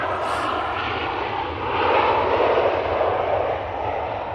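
Icelandair airliner landing fast at Manchester Airport, a loud broad jet roar with a deep rumble that swells around the middle and holds steady throughout.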